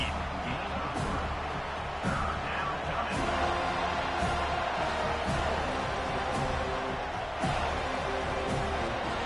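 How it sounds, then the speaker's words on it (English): Football stadium crowd roaring to rattle the opposing offense on third and long, a dense, loud, sustained wall of cheering and noise with occasional sharp thumps and indistinct voices mixed in. "Listen to this crowd just shaking the girders of this place, trying to help their defense."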